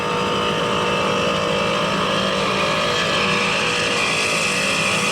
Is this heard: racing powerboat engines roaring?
yes